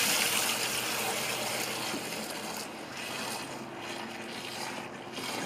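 Home-brewed IPA wort is transferred by pouring, giving a steady, loud, close gushing splash of liquid that runs continuously and eases slightly toward the end.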